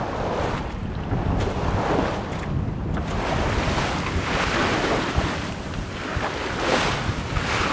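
Steady wind roar and rushing waves from a sailboat under way on the Baltic Sea off Neustadt, close and continuous, with buffeting gusts on the microphone and no voices.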